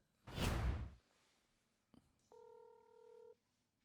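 A landline telephone dials out for a phone interview, a brief whoosh and click followed by a steady dual-tone dialing beep lasting about a second, quiet and alone.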